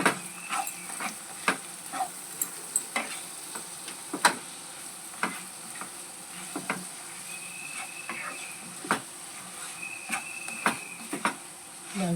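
A spoon or spatula stirring brinjal, pea and tomato curry in a frying pan, with irregular scraping knocks and clacks over a soft background sizzle, close by and without talk.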